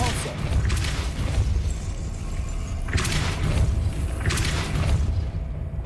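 The Depulso force spell in Hogwarts Legacy fires in repeated heavy whooshing blasts, three loud bursts with booming thuds underneath, spaced a couple of seconds apart over a low rumbling game ambience.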